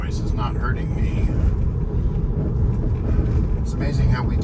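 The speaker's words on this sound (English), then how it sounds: "that's a very rough railroad track" A Tesla crossing a rough railroad track on a long drive produces a heavy, continuous low rumble and road roar that fill the cabin, with faint vocal sounds at moments.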